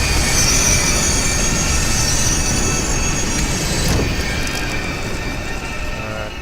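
A game train rolling along its rails with a steady loud rumble and a high metallic squeal running through it, holding level the whole time and easing off slightly near the end.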